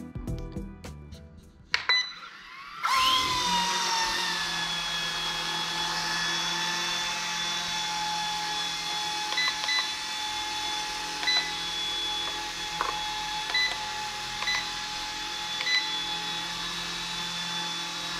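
An Eachine E120 RC helicopter spins up indoors after a few clicks, its small motor and rotor settling into a steady high whine that holds with slight fluctuations.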